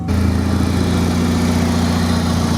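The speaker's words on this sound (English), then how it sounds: "as you guys can hear, it definitely needs an exhaust" An old Saab's engine idles steadily with a deep, rumbling drone and a raspy, sputtering exhaust note from an exhaust leak, loud and close, running continuously.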